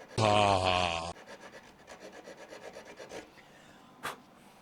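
StewMac nut slot files rasping in a guitar nut slot, one loud opening stroke followed by a run of quick, lighter back-and-forth filing strokes and a sharp tap near the end.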